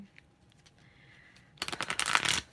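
Tarot cards shuffled by hand during a reading, a faint stretch giving way to a dense burst of crisp riffling and flapping in the second half, close and fairly loud, with no voices.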